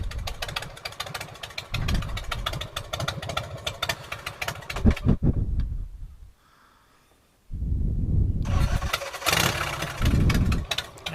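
A motorcycle engine, with tassels on the bike, turns over and runs loud and close, rumbling steadily, cuts out for about a second and a half, then fires back up and carries on idling and revving.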